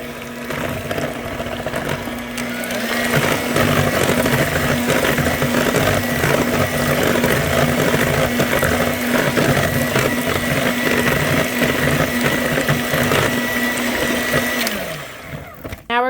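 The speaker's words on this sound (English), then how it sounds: "Mix that together again." A kitchen mixer or blender whirs steadily for about fifteen seconds, blending milk and vanilla into vegan plum buckle batter, with a constant motor hum that winds down and stops near the end.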